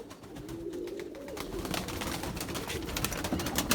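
Pigeons coo and flutter near a handler at a loft during a flight session, with wing claps and flapping bursts repeating over a steady low cooing hum throughout.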